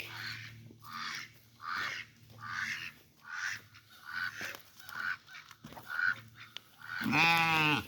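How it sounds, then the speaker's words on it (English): Repeated nasal quacking calls from several ducks, evenly spaced and fairly close, ending in a louder, drawn-out squawk. "Ducks."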